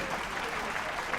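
Applause for a contestant at a fashion show gala, a short, steady burst of crowd clapping with faint voices mixed in.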